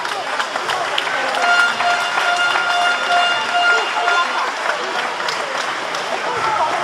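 An audience at a basketball award ceremony claps in a dense, sustained round of applause, with a voice speaking over it.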